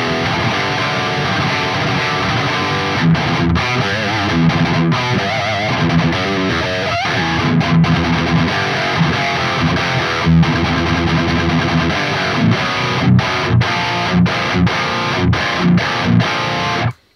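An electric guitar played through a Neural DSP Soldano SLO-100 amp plugin, giving a crunchy distorted tone with chords and riffs, long delay and reverb tails, then short staccato stabs toward the end.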